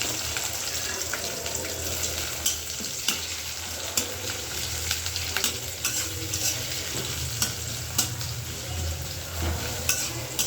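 Onion, garlic and green chili fry in a hot wok, a steady crackling sizzle with occasional sharp stirring scrapes and clinks, close and fairly soft, with no talking.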